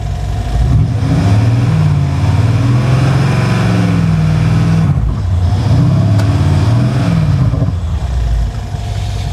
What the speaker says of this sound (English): Yeah, that's a noisy car.